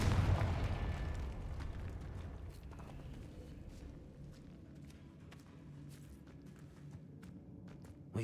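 A Confringo spell explosion in the game Hogwarts Legacy, a loud blast at the start that decays into a long rumbling tail with scattered faint taps and footsteps.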